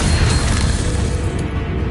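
A Bombarda spell explodes in the Hogwarts Legacy video game with a loud, dense, booming burst. It stays heavy and roaring throughout its short length, with a brief crack near the end.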